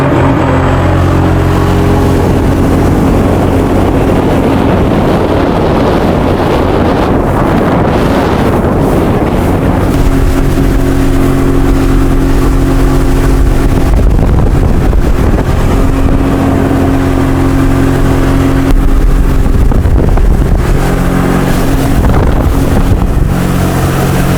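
A loud jet ski engine drones continuously with heavy wind buffeting and water rushing as it speeds across water near Adome Bridge, close to the microphone.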